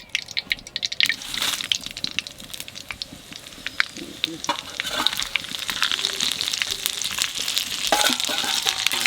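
Dry red chillies and five-spice seeds hit hot oil while khichuri is being cooked, giving a close, steady sizzle and crackle with small pops and spatters that grow busier toward the end.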